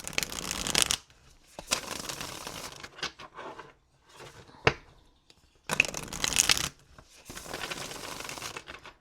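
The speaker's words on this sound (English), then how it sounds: "Let's give this another shuffle." Tarot cards shuffled in several bursts of crisp riffling and flapping, close up, separated by short pauses and light tapping between shuffles.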